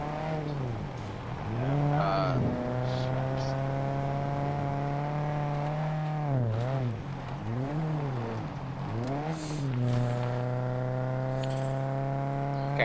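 A loud vehicle engine in the survival game Scum drones steadily up close, its pitch swooping down and back up in several revving dips, with no one talking over it.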